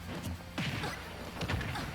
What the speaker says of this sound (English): a lot of forward smashes in this match so far